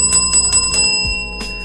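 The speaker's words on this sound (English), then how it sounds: "Let me hit my bell before I get out of here one time." A bell is struck about five times in quick succession, each strike ringing out bright and sustained, with a final stroke after a short pause, close and loud with no talking.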